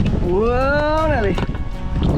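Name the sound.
wind blowing while out on a kayak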